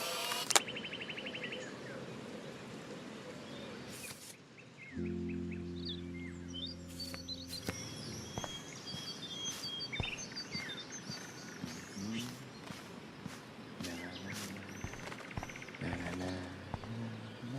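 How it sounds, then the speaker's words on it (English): Birds in the video game Life is Strange chirp in scattered light tweets over a steady outdoor ambience, mixed with other game sounds and a low hum partway through. "The birds are flocking around Samuel."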